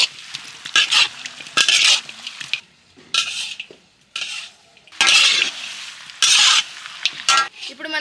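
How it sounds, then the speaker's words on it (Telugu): Boiled chicken and garam masala are stirred in a frying pan during village cooking. Sizzling comes in repeated bursts, with a spoon or spatula scraping against the pan, close and loud, and no talk. "మనం ఉడకబెట్టుకున్న చికెన్ వేసుకుందాం. ఇప్పుడు మనం గరం మసాలా వేసుకుందాం."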